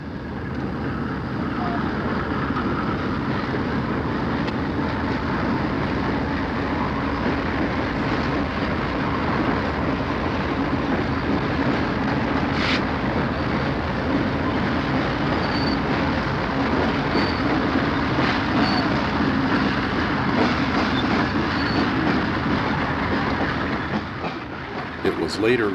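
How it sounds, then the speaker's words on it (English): A Conrail train led by a 1966 General Electric U-28C diesel locomotive, ex-Pennsylvania Railroad, rolls past with a steady rumble and rail noise for about 25 seconds, while a narrator talks over it. "6520 on the point is a General Electric 1966-built ex-Pennsylvania Railroad U-28C, still wearing its old number,"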